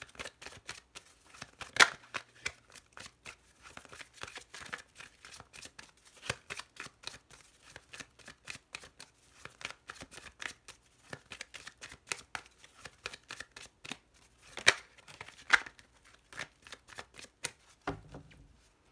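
Lenormand fortune-telling cards are shuffled and laid out in a tarot reading, giving a long run of soft, papery riffles and light flicks and taps of cards at close range, with no talk.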